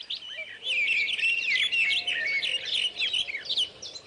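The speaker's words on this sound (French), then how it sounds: "Les oiseaux chantent." Several birds chirp and tweet in quick, overlapping bright calls in the countryside, fairly close and continuous, with a quiet background and no talking.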